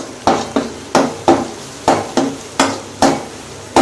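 Metal spoon repeatedly scraping and knocking through a thick Tamil chicken curry in a pan on the stove, about a dozen crisp rhythmic strokes with a soft sizzle underneath, close and fairly loud.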